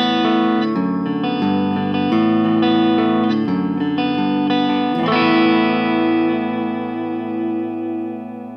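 Yamaha Revstar RS720B electric guitar played through its neck pickup with light distortion, sustained chords and notes ringing out with a breathy, airy tone, a final chord left to decay.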